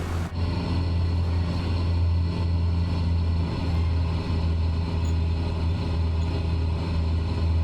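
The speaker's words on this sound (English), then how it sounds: "We're just gonna land on the main runway," A simulated aircraft in Microsoft Flight Simulator nears touchdown on a main runway in a strong crosswind, with a steady, moderate engine drone and a low rumble throughout, no speech.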